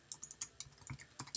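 Computer keyboard keys clack in quick, uneven bursts of close, faint taps, with no one speaking.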